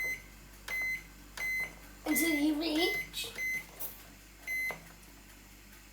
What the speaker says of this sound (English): you need to start the timer by firstly clicking cancel if it works, then hit start